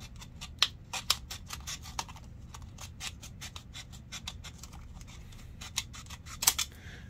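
Scissors trimming brass sheet snip steadily in quick, crisp cuts, close and fairly quiet, with a few sharper metallic clicks.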